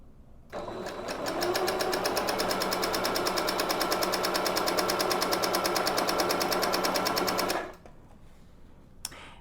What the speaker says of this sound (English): you're going to go ahead and start stitching